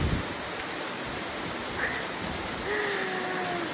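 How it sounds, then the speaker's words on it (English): Steady rain falls over a resort pool area with a long dock nearby, a dense even hiss throughout with a few faint tonal chirps in the background. "I don't know when this rain is gonna stop."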